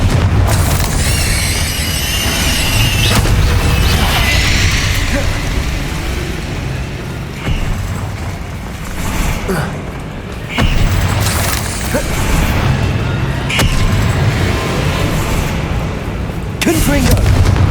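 Confringo fire-blast spells cast in Hogwarts Legacy, a series of loud booming explosive bursts repeating through dense game action and effects, with occasional crackling impacts.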